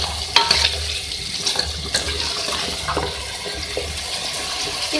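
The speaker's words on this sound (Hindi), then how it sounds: "इसको मिक्स कर लें।" Fried golden-brown onions being stirred into aloo gosht in a cooking pot, with wet scraping and sloshing textures that run steadily for several seconds, alone without talk.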